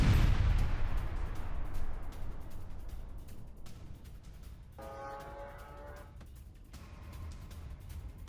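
A FAB-3000 bomb strikes a Ukrainian military post with one heavy, booming blast at the start. A long rumbling tail fades out afterward, followed later by a fainter, sustained roar in the distance.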